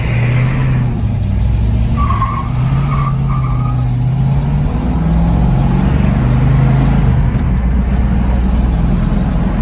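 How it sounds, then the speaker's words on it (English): A 1966 Ford Mustang's 302 V8 engine rumbles and revs through rising and falling pitches as the manual gearbox shifts, loud and close, with a deep throaty tone throughout. "Excellent shifting manual trans with the 302 motor."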